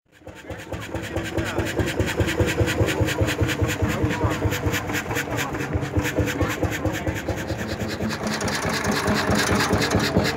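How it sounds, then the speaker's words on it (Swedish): A Beijer hot-bulb engine runs at a museum, its loud, rapid mechanical knocking steady and close throughout after a quick rise at the start, with a voice talking faintly underneath. "Motorn, det var en Beijer."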